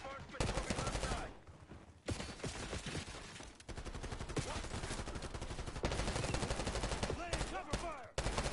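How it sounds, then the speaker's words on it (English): Gunfire from the Call of Duty Black Ops 6 video game on PS5: dense automatic bursts, loud and sustained, broken by a few brief pauses, with battle chatter mixed in. "Laying cover fire."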